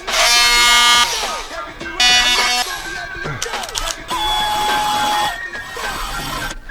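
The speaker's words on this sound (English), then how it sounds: "Drop this thing onto the table saw, straighten this line out." Table saw cutting a piece for a sink cabinet in a van build galley, with loud whining bursts of blade noise in two main cuts followed by quieter rattling and running noise.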